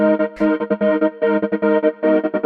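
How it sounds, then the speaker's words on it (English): A Eurodance synth stab pattern processed with Haas-effect stereo widening plays in a choppy, rhythmic sequence of short bright chords, loud and upfront with no voices. "Then we got the Haas effect."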